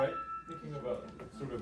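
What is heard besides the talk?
No everyday noise stands out behind the speech.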